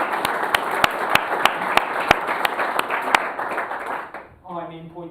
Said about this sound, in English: A good applause for the two camera people who were already standing for 2 hours in this heat.